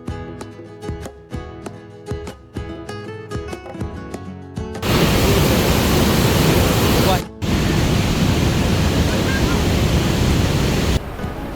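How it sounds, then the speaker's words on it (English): Roaring Iguazu waterfalls heard up close in a Brazilian park, a loud steady broadband rush that cuts in abruptly after a stretch of music, briefly drops out, then continues. "Everybody was talking about how loud the waterfalls are when you're close."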